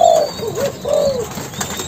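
Young spotted doves, Malaysian cu gáy kept in a cage, giving soft, wavering coos and begging calls at close range, a few drawn-out sliding notes in quick succession with no speech.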